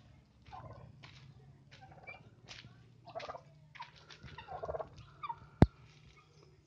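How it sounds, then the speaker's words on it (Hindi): Female turkeys in a small wire-fenced farm room give a series of short gobbling and clucking calls at moderate distance over a low steady hum, with one sharp loud knock near the end. "ये टर्की की फीमेल है"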